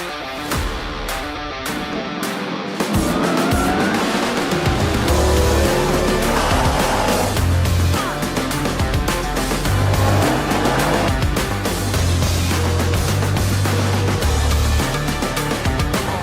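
Rallycross race cars compete wheel to wheel at Mondello Park in Ireland, engines revving and shifting in rising and falling howls with brief tire squeals, loud and close after a quieter opening.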